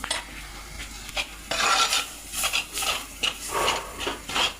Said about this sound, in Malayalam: ഈ അരപ്പൊന്ന് ഒന്നുകൂടെ ഒന്ന് മൂപ്പട്ടെ.